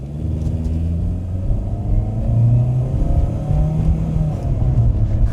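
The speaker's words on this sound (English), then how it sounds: "How much effort can this car actually be putting in when I'm flooring it?" A Toyota Corolla with a tiny engine, running on thinner oil, is floored at full throttle. The engine roars loud and close, its drone climbing steadily in pitch as it accelerates, with no talking.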